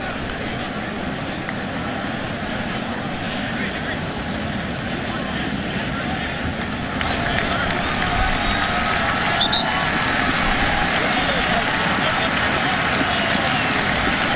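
Stadium crowd at Memorial Stadium applauding an injured Iowa quarterback during an Iowa at Nebraska football game, a broad, steady wash of clapping and crowd noise that swells midway under a commentator's voice.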